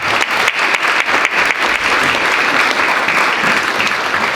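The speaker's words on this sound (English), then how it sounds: "So if we could give Dr. Benga a round of applause." A round of applause from the audience at a 25th anniversary memorial reception, many hands clapping steadily with a few sharper claps standing out at first, full and sustained to the end with no talking.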